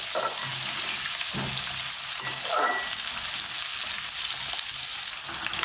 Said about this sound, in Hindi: तीन मिनट अभी इसमें फ्राई करेंगे